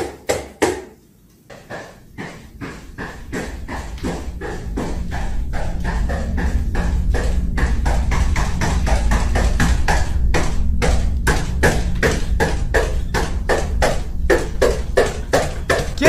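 Rapid, steady knocking on a door, a long run of sharp close taps that begins sparse and speeds into an even rhythm, with a low rumble underneath.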